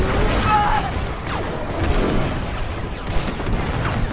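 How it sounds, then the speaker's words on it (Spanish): Dense, continuous blaster fire and impacts batter the player's starfighter in Star Wars: Squadrons, a steady loud barrage with booming hits, under a voice. "Bien, me están acribillando."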